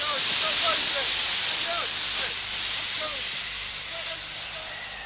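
Steam hisses loudly and steadily as it blasts ice off the flight deck of HMS Endurance in Antarctica, a continuous broadband rush with faint chirping bird-like calls above it.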